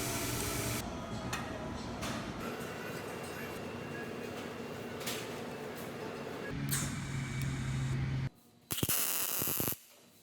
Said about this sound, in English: I'm using the belt grinder here to grind off the square parts and make it even with the round tube.